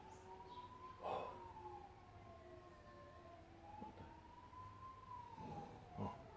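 An ambulance siren wails outside at a distance, a faint rising and falling tone that sweeps slowly and steadily, with a few soft thumps and rustles nearby.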